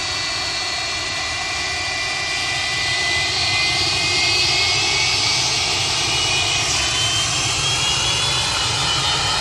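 Jet airliner engines roar at Manchester Airport, a loud sustained whine and rumble that swells and holds steady for several seconds, with no talking.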